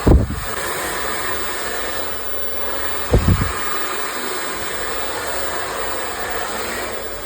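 A hair dryer blows steadily in a salon while a round brush styles layered hair, a loud continuous whooshing hum with two short bursts of handling noise near the start and at about three seconds.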